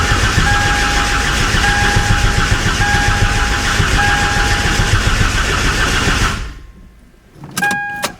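An engine being cranked to build oil pressure, a loud, steady mechanical churning with a constant whine for about six seconds, then cutting off into near quiet before a brief electrical buzz.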